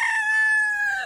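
A fighting rooster gives a single loud, close crow lasting about a second, bright and sustained with a slight fall at the end, and no voices around it.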